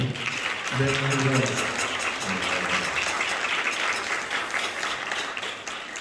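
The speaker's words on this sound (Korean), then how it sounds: "뜨겁게 한번 격려 축하의 박수 한번 보내주시죠" A church congregation applauds warmly for a couple about to marry, a dense, steady clapping that runs throughout while a voice briefly speaks over it early on.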